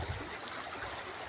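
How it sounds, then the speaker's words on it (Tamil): Water flows past a check dam and runs off to the side in a steady, even rush, heard alone with no voices. "தண்ணி அது பாட்டுக்கு சைடில் போயிட்டுருக்கு"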